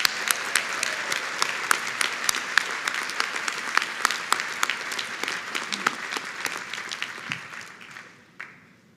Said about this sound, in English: Please join me in applauding Dr. Rivkin for her 20 years of distinguished service.